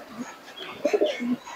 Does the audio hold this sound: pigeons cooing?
yes